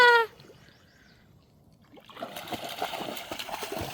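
Water splashing and trickling as a dog is rinsed, a soft irregular patter of drips and splashes that starts after a brief quiet pause and continues close by.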